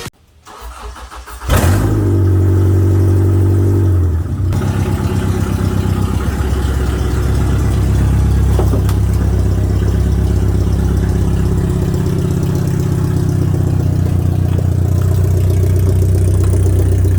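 A 2001 Subaru Outback enduro race car engine cranks and catches, then settles into a loud, steady, close idle that runs on without a break; no one speaks.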